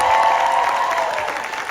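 Audience applause at a comic convention panel, a dense, steady wash of clapping with a few cheers mixed in, loud and close, fading slightly toward the end.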